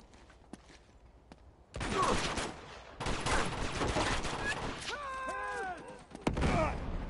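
Gunfire in the video game Uncharted: The Nathan Drake Collection, dense rapid bursts of shots over several seconds, close and loud, with pauses and a brief lull before firing resumes.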